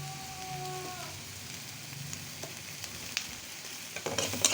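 Spices sizzle in hot oil for a tilapia bhuna curry, with coriander powder and chili powder frying steadily and soft stirring scrapes and clicks building near the end.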